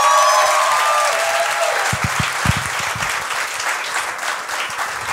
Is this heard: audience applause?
yes